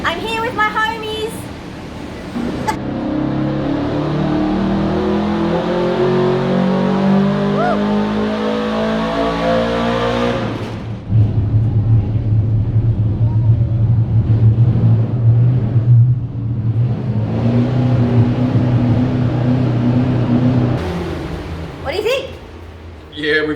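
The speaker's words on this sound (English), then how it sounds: "We're just about to start it with the new muffler" A NASCAR build's engine runs through a new muffler, first revving with a rising, throaty drone, then settling into a deep, steady rumbling idle, with people talking over it.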